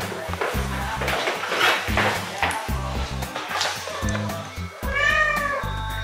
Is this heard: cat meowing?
yes